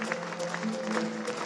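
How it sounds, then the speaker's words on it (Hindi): A crowd at a ceremony in Thailand claps in a steady, fairly faint round of applause that holds even throughout, with no talk over it. "अपने इन सब भाइयों के लिए जोरदार तालियां बजाएं"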